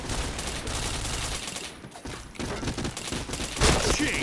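Rapid bursts of automatic gunfire in a Point Blank shooting game, fast close rattling volleys with short pauses between them.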